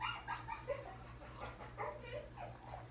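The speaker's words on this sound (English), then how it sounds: "That's his dog, Buddy Jr. I call him BJ in there having a fit" A dog barks and yelps indoors, throwing a fit, with repeated short barks and whimpers heard muffled from another room over a low steady hum.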